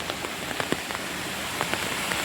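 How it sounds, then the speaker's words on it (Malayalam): Rain beginning to fall in a village in Pathanamthitta, Kerala, near rubber plantations: a steady broadband patter of drops on surfaces with scattered louder individual drips, continuous throughout, no voices. "മഴ പെയ്ത് തുടങ്ങി മക്കളെ"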